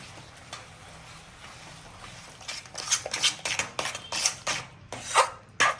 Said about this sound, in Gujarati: ચલો હવે માવો એડ કરીને આપણે બધો ચાસણીમાં મિક્સ કરી લઈએ